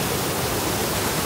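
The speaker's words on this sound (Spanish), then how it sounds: "Esta es la cascada y las termas de El Pantanal." The waterfall at El Pantanal hot springs roars as a steady, loud, broadband rush of falling water, continuous and close, with no voices.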